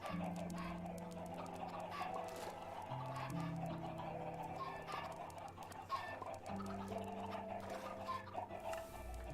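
Chickens cluck and squawk in a crowded Minecraft chicken farm, a continuous flock of overlapping game bird calls at moderate level with no talk.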